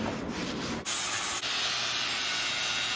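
Small grinder removing metal on a trailer repair: a steady, harsh, close grinding hiss that shifts pitch twice as it bites into the workpiece, loud and continuous.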